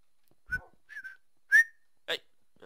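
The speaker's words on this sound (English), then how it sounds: "It was me whistling as well" A person whistles a few short, separate notes close by while playing Minecraft, with brief pauses between them; no speech.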